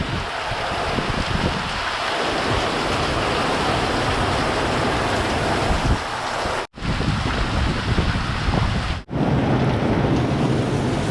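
Strong wind during a summer hailstorm roars in a continuous loud rush, buffeting the microphone, broken by two brief sudden dropouts; no voices.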